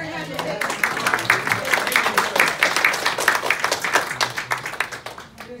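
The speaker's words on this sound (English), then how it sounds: "Can we have a round of applause" A live audience applauds with a dense, steady patter of many hands clapping at an even level, while voices carry on underneath.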